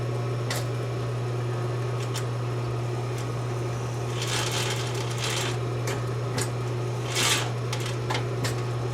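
Sewing machine stitching curves, a steady motor hum beneath soft, short bursts of needle clatter that start and stop unevenly, close and fairly quiet.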